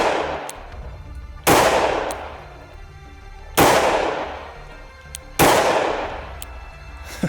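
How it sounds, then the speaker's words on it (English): Three loud, sharp 9mm FMJ shots from a Glock 43X pistol at an outdoor target, spaced about two seconds apart, each with a ringing decay. "I'm gonna be shooting 9mm FMJ through my Glock 43X, and we'll see how the target holds up"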